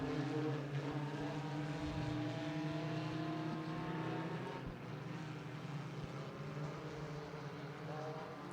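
Hornets-class race cars drone steadily around a track, a continuous far-off engine hum that holds without pause, with a faint commentator voice over it.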